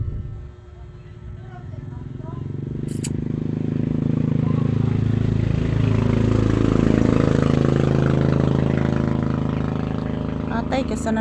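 A motorcycle engine runs at a steady mid-pitched idle nearby on a hot evening, swelling slightly louder and holding level over several seconds.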